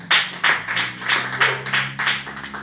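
Congregation at a church service clapping hands in a steady rhythmic pattern, bursts of many palms together roughly every half second, close and fairly loud over a faint sustained musical hum.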